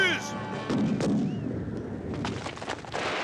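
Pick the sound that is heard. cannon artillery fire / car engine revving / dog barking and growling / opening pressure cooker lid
cannon artillery fire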